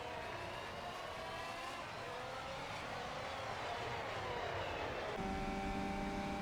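Formula 1 race cars, a McLaren and a Mercedes, roar past together in a United States Grand Prix racing game, a steady high engine whine that rises in pitch before shifting abruptly to a new gear tone.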